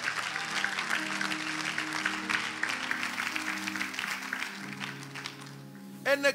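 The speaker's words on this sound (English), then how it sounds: "Come on. Clap your hands for Jesus here." A congregation claps along during a prophetic prayer service, with steady, dense applause over organ-like music chords that fades toward the end.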